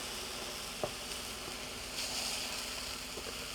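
Pork burger patties fry in a pan with a steady, soft sizzle, and a brief scrape and tap come as they are flipped over.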